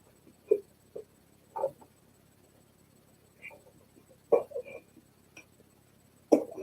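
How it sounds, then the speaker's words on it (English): A person's hiccups, several short abrupt catches scattered irregularly across the stretch, close and fairly quiet with silence between them. "I got hiccups."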